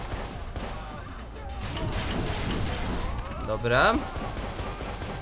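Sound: gunshots in video game Watch Dogs

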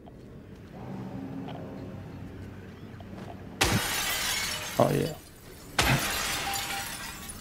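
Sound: glass shattering in video game Silent Hill 2 Remake

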